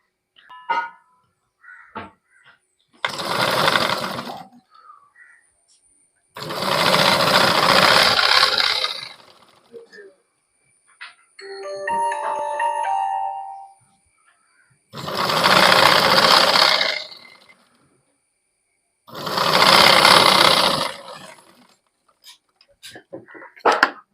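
An electric sewing machine stitching a folded sleeve hem runs in several rapid bursts of whirring needle strokes, separated by short pauses filled with faint handling and clicking sounds.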